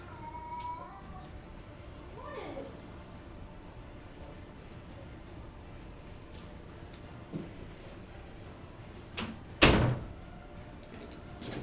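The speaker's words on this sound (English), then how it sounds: "Hold on, I gotta close this door." A room door pushed shut, a soft creak early on, then a single sharp thud near the end over quiet background hum.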